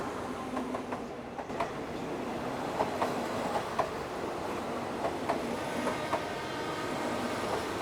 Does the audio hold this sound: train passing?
yes